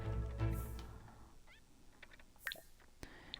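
A pet cat named Loki meowing close by, a short plaintive meow early on followed by a few quieter chirping mews, with the household otherwise fairly quiet.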